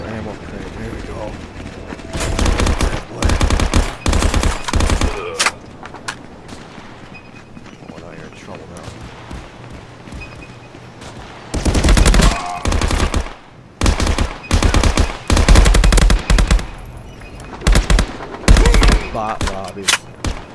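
Call of Duty VR Hijacked map in a Contractors Domination match, with loud, close bursts of automatic gunfire in rapid clusters separated by quieter pauses, while a player talks over it.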